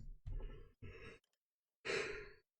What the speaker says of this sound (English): I don't know why I always yawn at the beginning of a video